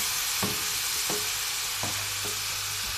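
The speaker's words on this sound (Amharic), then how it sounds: "ይኸው እያማሰልኩ ነው።" Tomato stew sizzles steadily in a hot pan while a spoon stirs it, giving four or five soft scraping strokes at regular intervals over a continuous close frying hiss, with no voices.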